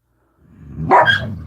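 A dog, one of several in a home livestream, lets out a single short bark that swells up from a low growl, close and fairly loud against an otherwise quiet room.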